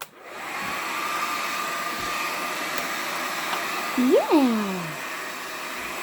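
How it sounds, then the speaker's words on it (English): Blow dryer whirring steadily while a dog is groomed, running throughout at close range, with a short voice briefly over it near the end. "And he doesn't even mind the blow dryer."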